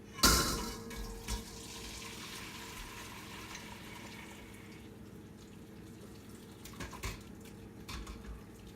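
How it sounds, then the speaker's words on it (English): Bone broth poured from a pot into a colander: a loud splashing gush at the start, then a quieter trickle and dripping of liquid draining, with a few light clunks and no talking. "now turn off the heat and pour into a colander."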